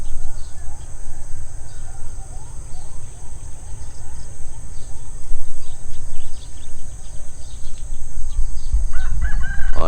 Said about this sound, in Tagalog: Nagtitilao ka ng mga manok.